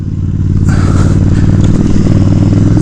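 A Suzuki Boulevard S83 1400cc cruiser motorcycle rumbles steadily and loud up close while riding, with a deep continuous engine drone and a slight rise in revs, heard alone with no talk.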